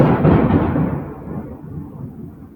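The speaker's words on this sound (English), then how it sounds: "it's thundering outside." Thunder rumbling outside during a storm, a loud deep roll that peaks early and slowly fades away, heard alone without voices.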